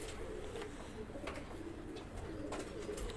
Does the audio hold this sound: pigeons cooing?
yes